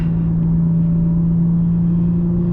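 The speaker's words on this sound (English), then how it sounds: "If I want to slow down, I'm easing down. Drop a gear." Infiniti G37 engine running steadily as it slows down through downshifts, a close, constant low drone with a faint whir and no voices.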